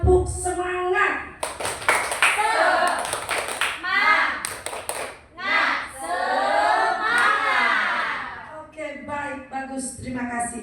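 A classroom of students performs a rhythmic spirit clap in unison, bursts of sharp claps alternating with chanted group vocals and a teacher's voice leading.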